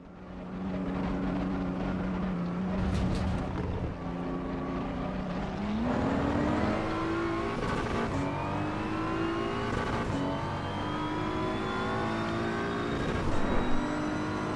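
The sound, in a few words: racing car engine revving in video game Assetto Corsa EVO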